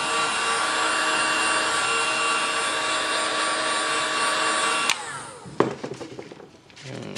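A heat gun blows a steady, loud, close airy roar while warming vinyl wrap on the rear of a Nissan Y62, then cuts off near the end, leaving a few sharp handling clicks and rustles.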